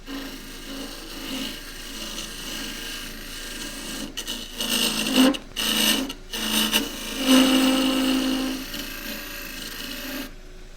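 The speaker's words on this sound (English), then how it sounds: "I've got a radius skew, which means that I can get in onto the surface without both the corners contacting the wood." A radius skew chisel shears across scrap wood spinning on a lathe while an endgrain box is turned. It makes a steady close rasping hiss with a faint tonal whine, and several louder scraping bursts come midway.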